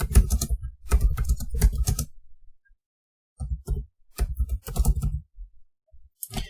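Computer keys are tapped in short clustered bursts during Python function coding, with a colon typed and the enter key pressed; the clicks come close and fairly loud, separated by brief pauses, with no talking.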